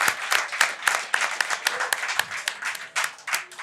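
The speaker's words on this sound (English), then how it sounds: "Round of applause for Samantha." Clapping from a small live studio audience, applauding a guest named Samantha on a sports talk show, a steady patter of handclaps of moderate loudness with no talk over it.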